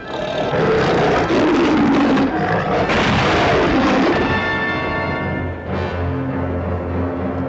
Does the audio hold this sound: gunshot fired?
yes